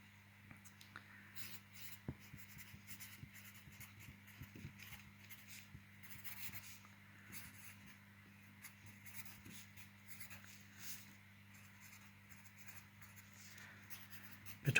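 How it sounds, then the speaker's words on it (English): A pen scratches out a heading on a line graph for a maths task, a quiet, close run of irregular strokes and scrapes continuing steadily over a faint low hum, with no talking. "So that's what I'm going to write my heading as."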